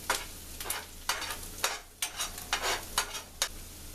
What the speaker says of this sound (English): These onions smell so good, getting nice and golden.